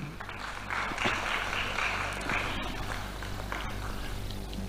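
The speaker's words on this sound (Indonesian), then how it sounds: "Tepuk tangan untuk Pak Sugeng" A seminar audience applauds a speaker at an Indonesian national seminar on wayang innovation, the steady clapping running at moderate volume throughout with a low hum beneath and no voices.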